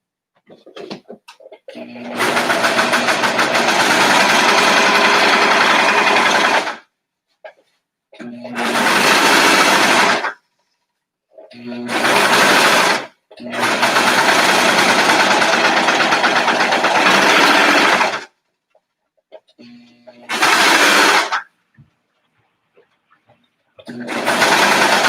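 A sewing machine stitches a baby swaddle in several loud, steady runs of rapid mechanical whirring, each lasting a few seconds and separated by short silences.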